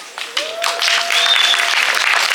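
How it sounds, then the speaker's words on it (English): Applause from the audience at a kids' open mic at the Médiathèque de Concordia, a steady roomful of clapping that swells in after a brief quieter start and holds loud and dense. "give a great big round of applause to the whole entire team of the media"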